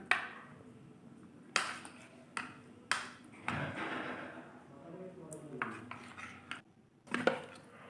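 Batter for coconut kheer-filled patishapta being beaten by hand in a bowl with a metal ladle, giving repeated sharp clinks and scraping knocks in an irregular rhythm, close and moderately loud, with background speech.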